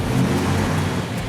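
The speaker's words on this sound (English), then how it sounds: "1958 Plymouth Fury, 350 cubic inch, dual 4." A 1958 Plymouth Fury with a 350 cubic inch engine and dual four-barrel carburetors revving loudly and close, a dense low rumble lasting barely a second.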